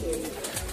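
Pigeons cooing inside a loft, soft continuous murmuring coos filling the short stretch with a steady close bird chorus and no talking.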